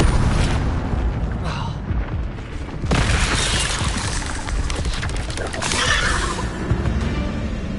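Incendio fire spell cast in Hogwarts Legacy, a loud roaring burst of flame with crashing impacts and a sharp blast near the three-second mark, sustained dense noise throughout alongside battle sounds.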